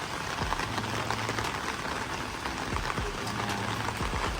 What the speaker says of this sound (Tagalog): Nagpipictorial kami kahit umuulan.